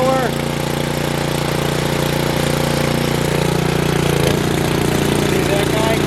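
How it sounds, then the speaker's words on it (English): A Craftsman gas snow blower engine runs steadily at close range, a loud continuous rumbling drone with a slight shift in pitch midway. "There's the snowblower."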